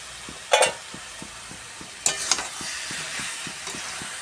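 Pointed gourd frying in a pan, steady close sizzle beneath repeated scraping strokes of stirring, with two louder bursts as pieces are turned in the hot oil.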